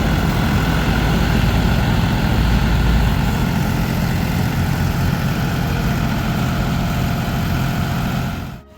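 A loud, steady diesel tractor engine rumbling continuously up close while cultivating dolomite sand on Manila Bay, cutting off abruptly at the very end.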